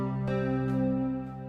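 A synthesizer plucked preset sustains a bright, buzzy tone with a few soft plucked attacks, fading slightly at the end.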